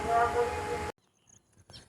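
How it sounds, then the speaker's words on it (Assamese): Train pulling out of NJP station during lockdown: a loud, steady rumble of rolling rail noise for under a second, then cutting abruptly to near quiet with faint scattered clicks and a soft burst near the end. "এতিয়া NJPৰ পৰা ট্ৰেইনখন এৰিব ধৰিছে।"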